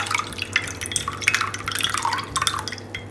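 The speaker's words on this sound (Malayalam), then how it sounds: "ഈ വെള്ളവും ഒഴിച്ചു കൊടുക്കുന്നുണ്ട്. ഒന്ന് കൈ വെച്ചൊന്ന് അരിച്ച് ഒഴിച്ച് കൊടുക്കുക." Strained tamarind water poured by hand onto a plate, a close run of dripping and trickling splashes against the dish that lasts a few seconds with no talk.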